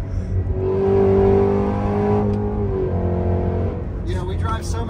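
A Cadillac Escalade V's V8 engine revs with a rising then falling roar, loud and close, while voices speak over it.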